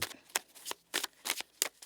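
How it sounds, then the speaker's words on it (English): A tarot card deck is shuffled in quick, close riffling bursts, about six crisp flutters spaced roughly a third of a second apart, quiet and alone. "we're just going to give this deck here a pretty good tossing around, shuffling to see what the potential energy is here for Libra"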